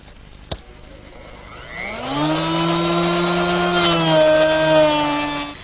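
A router shaping the top of a wooden flagpole, guided along a straight edge by a riding block, spins up after a sharp click and whines steadily and loudly at close range as it cuts.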